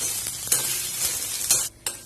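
Onions and tomatoes sizzle and crackle in a hot pan, stirred a few times with scraping sounds, close and fairly loud with no talking.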